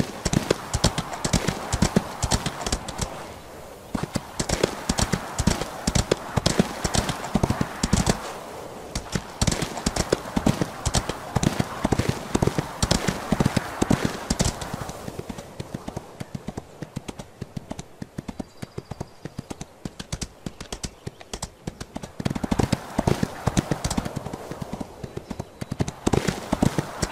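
Steady rhythmic clip-clop of horse hooves galloping in the video game Ostwind: Windstorm, loud and continuous, easing briefly midway before picking up again.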